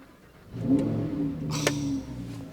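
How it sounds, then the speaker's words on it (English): A Lamborghini Huracan STO's V10 engine starts and revs, a low rumbling idle swelling into a loud, sustained growl with a brief sharp rise in the middle, heard close and alone without speech. "Listen to that V10."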